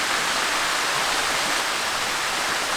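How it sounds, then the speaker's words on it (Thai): A small waterfall, nearly two metres high with modest flow, in Saraburi, Thailand, roars steadily close by, a dense, even rush of falling water with no breaks or other sounds. "เราก็เดินมาประมาณ 50 เมตรเองก็เจอกับน้ำตก"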